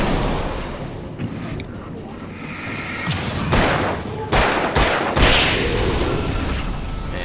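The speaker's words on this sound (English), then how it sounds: "Here's a flashbang for you." Flashbang grenade in the Alan Wake video game, a few sharp loud bursts over a dense, noisy background of game sound, close and forceful.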